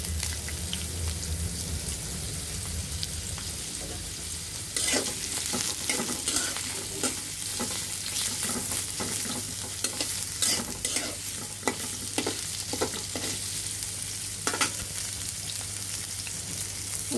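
Hill hyacinth beans (mou shim) fry in about a teaspoon of white oil in a pan. Dense crackling sizzle and repeated scraping stirs sit over a steady low hum, with no talk.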